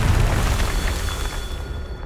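Confringo spell blast in the Hogwarts Legacy video game, a loud, sustained low rumbling boom that fills the whole clip with steady heavy bass before tapering slightly at the end.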